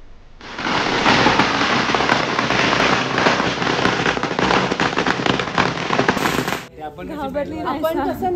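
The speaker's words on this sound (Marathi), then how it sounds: "इथे जेवढे पण लोक आता नमस्कार करून गेले त्यांनी तिथे जाऊन ते फटाके वाजले." A long string of firecrackers crackles at a temple in Phuket, Thailand, a dense, loud burst of rapid pops lasting several seconds before cutting off abruptly, followed by talk.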